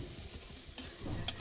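Whole cumin, cinnamon sticks, bay leaves and dried red chilies crackle in hot oil, a brief soft sizzle with a couple of sharp pops.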